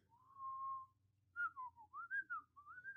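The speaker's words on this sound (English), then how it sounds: "Can you whistle?" A person whistles a short melodic tune, first one long sustained note and then a series of rising and falling phrases, close and clear against a quiet background.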